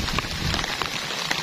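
Rain falling steadily on a surface while tofu is being fried outdoors, a dense continuous hiss of drops with no talk over it.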